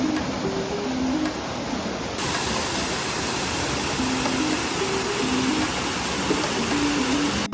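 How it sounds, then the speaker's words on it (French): A jungle waterfall pours in a steady, full roar of falling water, close and continuous throughout, with faint tonal sounds in the background. "Je vais vous montrer la cascade."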